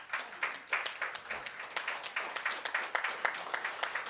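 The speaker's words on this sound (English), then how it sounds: "please stand up and give a round of applause for Nora" Applause from an audience rising to its feet at a cannabis industry and policy summit in Wisconsin, a steady patter of many hands clapping at moderate distance, fairly faint, with individual claps audible in the mix.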